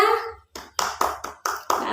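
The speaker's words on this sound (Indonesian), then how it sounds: "ayo kita berikan tepuk tangan untuk kelompok 3" A classroom of young primary-school children claps together for a group in a short burst of applause, a few loud, rhythmic rounds of hand claps close by, with no talking over them.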